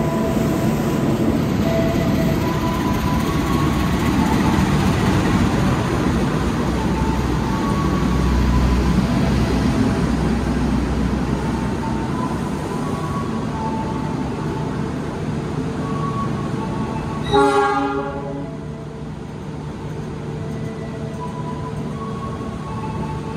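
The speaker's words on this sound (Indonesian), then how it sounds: "kereta api Kuto Jaya Selatan berangkat stasiun" The Kutojaya Selatan passenger train pulls out of the station, a continuous rumble of wheels on rail close by, with a brief sharp squeal or clank near the end as it moves off.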